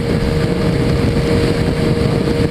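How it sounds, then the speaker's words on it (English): A Hayabusa motorcycle cruises on a freeway, its engine drone steady and heavily mixed with loud wind rush buffeting the microphone throughout, with no voices. "I'm riding a Hayabusa right now with one hand on the freeway"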